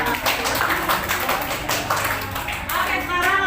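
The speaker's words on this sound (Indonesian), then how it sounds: "berikan tepuk tangan untuk kelompok 3" Classroom clapping for a student group, scattered claps and taps mixed with voices of students talking over them throughout.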